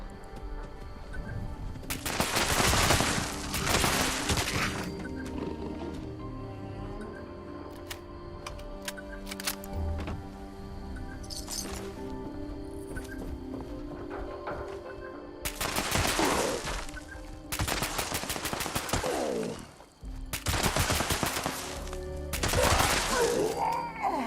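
Gunfire crackles through Fallout 76 in dense rapid bursts, several loud clusters of shots separated by quieter stretches of in-game ambience and hum.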